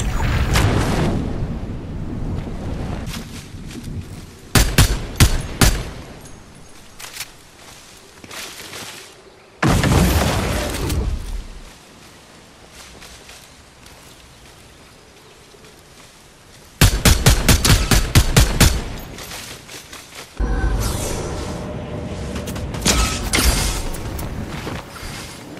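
Grenade launcher blasts and gunfire in Fortnite, arriving as several loud bursts of quick shots and booming explosions separated by quieter gaps, with a rumbling impact near the end.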